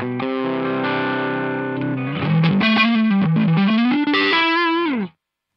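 Electric guitar with Rio Grande pickups on the neck pickup, played through the drive channel of a Ceriatone OTS Mini 20 amp: sustained overdriven chords, then a run of picked notes and bends, loud and continuous before ending abruptly.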